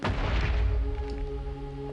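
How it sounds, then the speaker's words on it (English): An explosion in Minecraft blows up a tree, a heavy booming blast that hits at once and rumbles away over two seconds, with no talking. "So as you can see, it creates a pretty big explosion."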